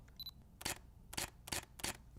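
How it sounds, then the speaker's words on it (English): A Canon EOS R5 mirrorless camera fires its shutter four times in quick succession, crisp subtle mechanical clicks, close and isolated after a faint short electronic beep. "I love the shutter sound and click of this camera"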